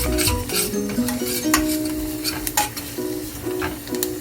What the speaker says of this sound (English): And now I'm going to stir it.